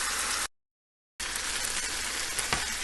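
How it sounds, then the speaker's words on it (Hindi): Kaleji (liver) fries on a hot tawa with yogurt, garlic and ginger, giving a steady, close sizzle that cuts out briefly and then resumes. "ये देखें ये पक रही है, ज़रा इसको अच्छी तरह से भूना जाएगा क्योंकि इसमें दही है और लहसुन अदरक है।"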